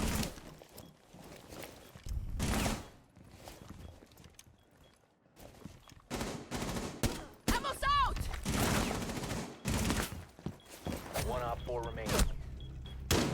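Rainbow Six Siege gameplay brings bursts of rapid gunfire, some close and loud and others quieter, separated by gaps and mixed with game effects, while a person talks at times.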